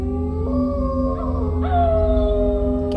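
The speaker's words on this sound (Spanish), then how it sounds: "¿Qué ha sido eso? ¿Ha sido un aullido?" An Iberian wolf howls in one long, loud, wavering note that rises partway through and holds steady, close and alone against a low background hum.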